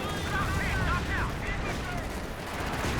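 Tank cannon fire in Company of Heroes 2 sounds as a dense, loud rumbling barrage with sharp gunfire bursts layered over battle noise, with a commentator's voice speaking over it.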